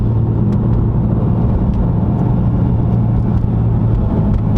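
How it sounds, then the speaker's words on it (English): A 2019 Acura NSX engine rumbles loud and steady up close, a dense continuous drone with no breaks and no talk. "Just the exotic sounds and stuff that comes from the car."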